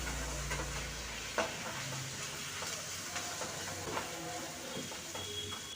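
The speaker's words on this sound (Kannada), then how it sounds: "ಶುಂಠಿ ಬೆಳ್ಳುಳ್ಳಿ ಪೇಸ್ಟ್ ಹಾಕ್ಕೊಳ್ತಾ ಇದ್ದೀನಿ ನೋಡಿ ಇದನ್ನು ಸ್ವಲ್ಪ ಹಸಿ ವಾಸನೆ ಹೋಗೋಷ್ಟು ಫ್ರೈ ಮಾಡಿಕೊಂಡ್ರೆ ಸಾಕಾಗುತ್ತೆ" Ginger garlic paste frying with onions in a pan, a steady soft sizzle running throughout with occasional stirring scrapes and clicks, close and moderately quiet with no talking.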